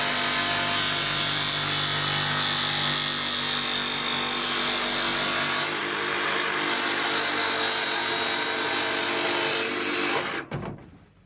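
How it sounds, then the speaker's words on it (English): A jigsaw cuts a roof vent opening in the roof of a Ford Transit van, a steady, loud buzzing saw run of about ten seconds that ends abruptly. "to stop it dropping and snagging the jigsaw blade."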